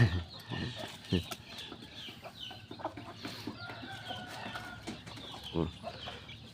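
Backyard chickens cluck in short bursts with occasional rooster-like calls, under a steady outdoor murmur and a nearby voice.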